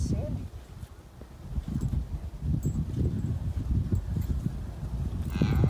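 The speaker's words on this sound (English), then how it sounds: "are you a miniature horse?" Light miniature horse hooves clop irregularly on the ground, close by, with rustling and a faint voice in the background.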